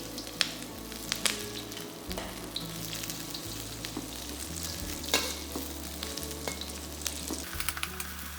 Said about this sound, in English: Fry the ginger till they are fragrant.